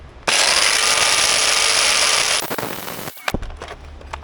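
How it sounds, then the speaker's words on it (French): A belt sander whines loudly for about two seconds, then cuts off, followed by clattering knocks and scraping of a workshop where homemade dumbbells are being made. "Non, ça c'est une ponceuse à bande"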